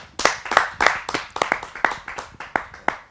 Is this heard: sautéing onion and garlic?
no